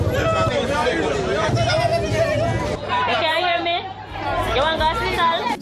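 A large roadside crowd chatters loudly around an injured man lying on a roadway, many overlapping voices, some shouting, forming a close, continuous babble with a brief dip midway.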